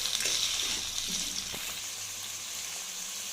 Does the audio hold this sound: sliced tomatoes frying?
yes